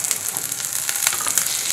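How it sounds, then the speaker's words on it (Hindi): Cumin seeds sizzle steadily in a spoonful of desi ghee during tempering for a home-cooked vegetable dish, a close, continuous crackling fry with no talk. "तो इसमें जीरा डाल देते हैं,"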